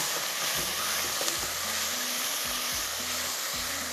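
Chicken sizzling in a pan as it is turned, a constant loud hiss with repeated low clunks and scrapes of the utensil against the pan, no speech.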